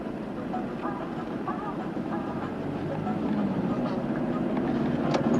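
A car circles Ordzhonikidze Square in Yakutsk in 1996, a steady low road rumble and cabin drone throughout, with a person talking over it.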